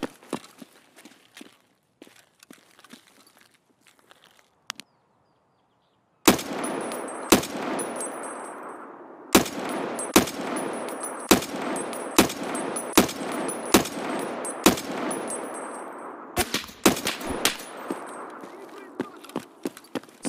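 Gunshots in Escape From Tarkov: sharp, loud reports at irregular intervals, some in quick clusters, following a quiet stretch of faint footsteps and scattered movement sounds.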